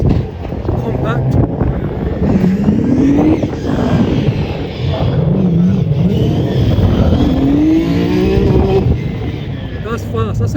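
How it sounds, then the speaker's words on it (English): A Ford Puma rally car with a rally engine and setup speeds past at a historic rally event, its engine roaring loudly and steadily with pitch rising under acceleration, wind buffeting the microphone throughout. "That's fast. That's a Ford Puma."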